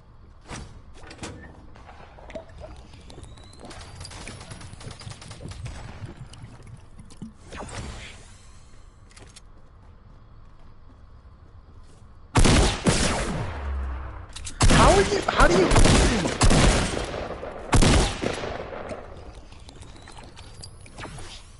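Bursts of gunfire in the Fortnite video game, scattered faint shots at first, then loud rapid volleys in the second half, with no talking.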